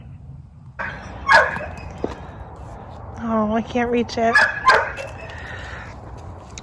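Dogs bark and whine in short bursts from nearby, yipping excitedly, while a person briefly speaks over them.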